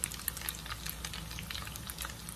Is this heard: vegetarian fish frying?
yes